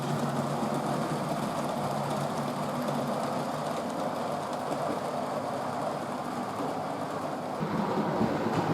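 A model railway locomotive hauling a rake of plastic Hornby Mark 1 coaches rumbles steadily along the track with a soft, continuous rolling clatter, close and fairly quiet.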